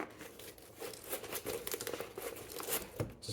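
A stiff zipper is dragged along an Evoc Multi Frame Pack, giving a quiet, scratchy crinkling rasp that comes in uneven, jerky pulls close by.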